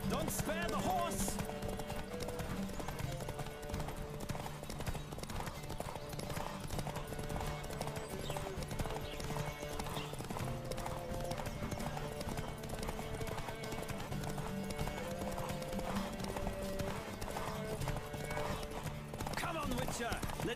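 A horse gallops in a race in The Witcher 3 game, fast continuous hoofbeats running throughout over game music, with voices talking over it.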